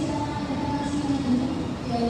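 The Kamandaka passenger train, pulled by a double locomotive, passes with a steady droning engine hum that holds at an even loudness throughout.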